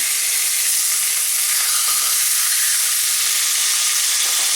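Whitetail deer steak sears in a hot pan, giving a continuous bright, hissing sizzle that stays loud and steady, with no talking.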